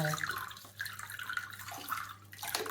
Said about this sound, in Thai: น้ำไหลแบบนี้จะล้างออกไป